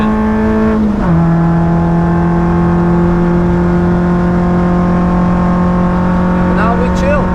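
A Peugeot 106 rental car drives at Nürburgring, its engine droning loudly and steadily with a brief pitch shift near the start, the note holding firm as it pulls along the track.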